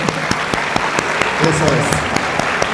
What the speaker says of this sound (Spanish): Un nuevo aplauso, pero ahora sí con muchas ganas, jóvenes